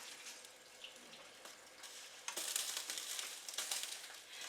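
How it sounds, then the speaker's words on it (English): A can of mixed vegetables is poured into a pot of beef noodle soup. Liquid and pieces splash and slosh at close range, starting quiet and scattered, then turning louder and busier partway through, with no talking. "I'm adding a can of mixed vegetables"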